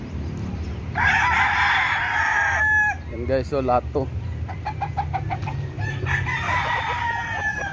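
Roosters crow loudly in long drawn-out calls, with clucking hens in between and someone talking briefly over the farmyard noise.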